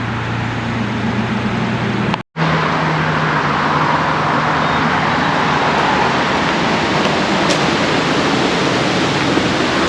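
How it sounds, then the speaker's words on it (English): Continuous broadband rush of road traffic along Route 209 mixed with flowing water from a nearby waterfall, steady and loud, with a brief dropout early on and a low hum underneath. "So there's a lot of road traffic noise."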